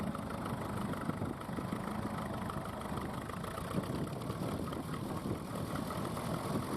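A wartime tractor engine idles at the East Kent ploughing match in 2019, giving a faint, steady, distant chugging hum with no other sounds over it.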